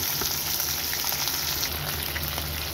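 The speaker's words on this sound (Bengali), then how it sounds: "এখন আমি এটাকে হালকা একটু ভেজে নেব, বেশি ভাজবো না।" Small hilsa fish, coated in spices, sizzle steadily in a pan of hot oil, a close, continuous hiss with soft crackles throughout and no voices.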